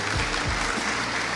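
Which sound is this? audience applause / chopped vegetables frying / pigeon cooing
audience applause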